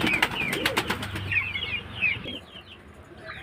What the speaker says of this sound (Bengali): এই যে ফ্রেন্ডস, একটা পায়রা দেখুন, খুব ভালো কোয়ালিটির পায়রা।